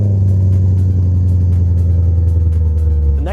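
An Audi B7 RS4 with a six-speed manual and quattro runs loud and close, a deep steady engine rumble holding throughout with a slight rising note at the end.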